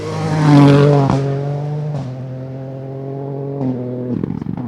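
A rally car passing at the end of a Gippsland Rally special stage, its engine note holding steady and loud before easing off, with gear changes and a sharp crackle toward the end.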